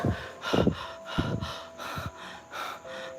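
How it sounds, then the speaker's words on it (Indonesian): Snoring comes in a string of rough, breathy snorts at an irregular rhythm, a few louder bursts early and softer ones after, fairly close over faint background hiss. "Ngorok."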